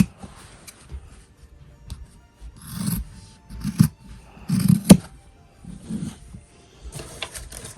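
Scissors cut through sewn fabric for a fabric basket in a series of soft, close snips and rustles. The crunchy cuts come irregularly, with quiet pauses between them.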